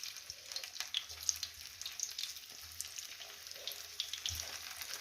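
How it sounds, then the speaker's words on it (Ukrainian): Red mullet frying in sunflower oil in a pan, a soft continuous sizzle with faint crackles and occasional low bumps, quiet and close with no talking. "буду сюди ставити і смажувати барабульку цю"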